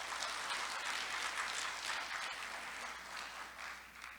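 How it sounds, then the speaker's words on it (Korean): An audience applauds at the opening ceremony of an electrical engineering society's summer conference, a sustained, even patter of many hands that tapers off slightly at the end. "다시 한번 큰 박수 부탁드립니다."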